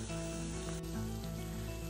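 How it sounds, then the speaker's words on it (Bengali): Balls of chhana (fresh cottage cheese) fry in hot oil, giving a steady, close sizzle that holds evenly for about two seconds with no voices. "এবার আমি ছানার বলগুলোকে ভেজে নিচ্ছি"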